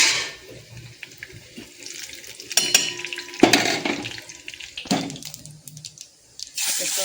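Crackling sizzle with splashy, watery bursts as cumin and chilies temper in hot oil, rising sharply a few times then settling, close by with no talk.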